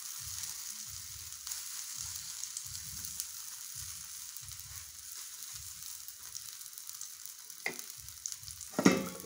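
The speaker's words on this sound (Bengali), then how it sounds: "তো আমি আরও একটা ভেজে নিচ্ছি" Corn paratha fries in a pan with a steady, soft sizzle and a low, rhythmic rumble beneath it, then sharper crackles near the end; no voices.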